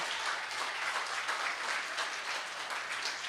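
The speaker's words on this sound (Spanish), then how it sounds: "why don't you clap your hands" A church congregation claps together in a dense, even wash of applause during a bilingual sermon, sustained and fairly soft-sounding at a distance, with no individual claps standing out.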